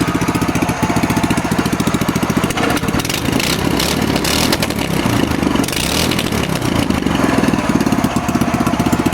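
A small gas engine with a header exhaust runs loudly and close with a rapid, raspy popping exhaust, briefly revving up before settling back to a steady chug.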